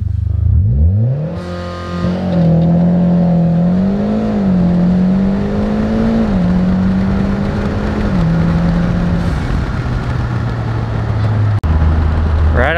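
A tuned car with a GST base map ECU flash accelerates hard in a drag race pull, its engine rising in pitch through several gear changes, loud and close throughout.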